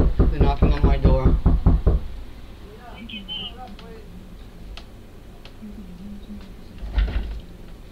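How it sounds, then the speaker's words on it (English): A fast series of loud knocks hits a house door in Sidney, Maine, then stops, leaving quiet room tone with faint background sounds and a single later thud. "They're knocking on my door."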